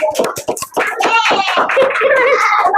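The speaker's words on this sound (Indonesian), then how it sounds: "Beri tepuk tangan untuk temannya." Children in a primary school classroom clap for a classmate during a maths lesson. A short burst of sharp, close claps opens the clip, then children's voices chant and call out loudly over it.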